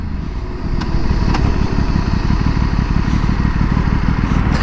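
An Aprilia RS 457 motorcycle with a quick shifter is ridden along, giving a loud, close, continuous engine rumble mixed with wind noise.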